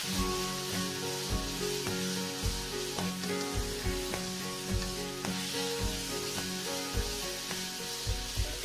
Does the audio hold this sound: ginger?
yes